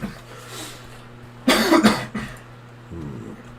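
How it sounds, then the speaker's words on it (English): A burst of two or three loud coughs close by, with a quieter throaty sound shortly after, over a low steady hum. "Excellent coughing skills"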